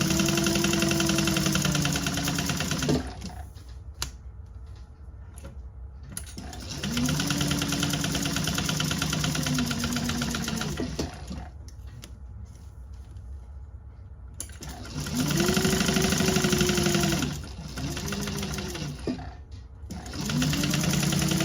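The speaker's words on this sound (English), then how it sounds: "Okay, top stitching down the sides." A sewing machine top-stitches down the sides of a fabric tote, running in three long bursts of steady whirring separated by quiet pauses, close and alone.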